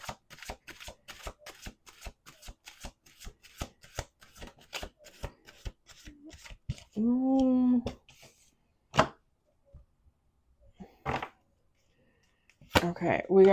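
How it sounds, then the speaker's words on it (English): Tarot cards snap and flick in a steady run of sharp clicks as they are shuffled, followed by a person speaking briefly and a few more card shuffles. "One more shuffle."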